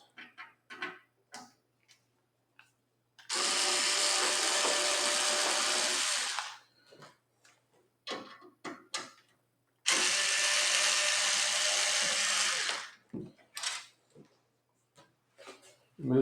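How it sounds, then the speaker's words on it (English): A power screwdriver whirs in two sustained bursts of about three seconds each, removing Phillips head screws from a Dell Inspiron desktop case, with small clicks and handling noises and a person talking between the bursts. "there are two Phillips head screws right here, 1 and 2, and basically I'm just going to take these two out"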